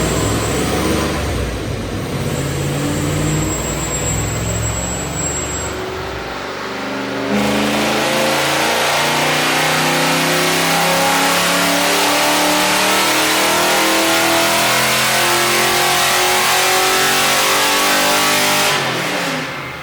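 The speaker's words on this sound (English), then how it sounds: "He dynos Mustangs on a Mustang dyno." A Ford Mustang GT pulled from a junkyard makes a wheel-power run on a Mustang dyno. The engine revs loudly and continuously, rising through the pass and holding at high revs, close and without voices.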